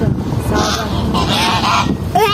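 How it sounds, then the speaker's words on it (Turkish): Geese honking loudly and repeatedly at close range, a dense, continuous chorus of harsh calls with a brief voice underneath. "ördek değil onlar kaz"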